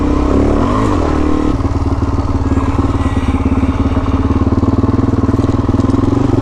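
A motorcycle rides along an off-camber dirt road in Girraween National Park, its engine droning loud and close with steady pulsing throughout, a brief rev and clatter early on before settling into a constant rumble.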